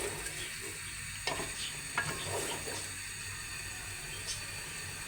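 Biryani being stirred together with lightly salted, pre-fried potatoes in a pot, giving a steady close scraping and soft sizzle with a few sharper knocks of the spoon against the pot.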